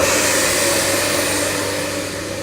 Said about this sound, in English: I'm just going to activate the vacuum again.